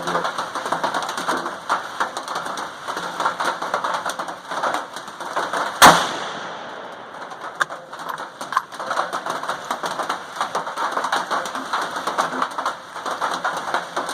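A single sharp gunshot from a Ruger Predator rifle in 6.5 Grendel, fired with a 100 or 140 grain load at a target, cracks loudly once over a steady outdoor background of engine-like drone and faint birds.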